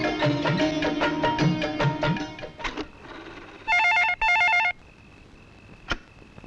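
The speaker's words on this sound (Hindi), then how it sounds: "भैया, आपके लिए फोन है।" A telephone rings in a Bollywood film scene, a warbling electronic double ring bursting out twice in quick succession after a stretch of music, then dying away to quiet.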